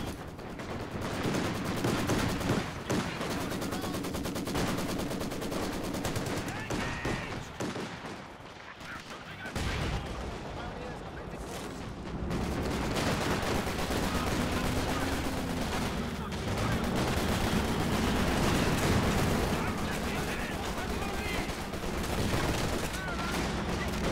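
Sustained machine-gun fire and strafing runs roar through a Company of Heroes 2 World War II match, dense, loud and continuous, with overlapping bursts and explosions that barely let up across the whole stretch.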